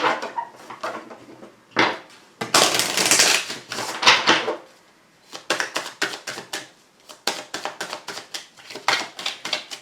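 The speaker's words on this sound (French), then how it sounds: "On va faire un petit tirage avec l'oracle des miroirs pour cette journée de mercredi." Oracle cards being shuffled by hand for a reading, giving rapid papery riffles and flicks in several close bursts with short pauses between them.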